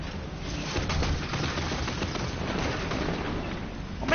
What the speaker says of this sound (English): We're sending some missiles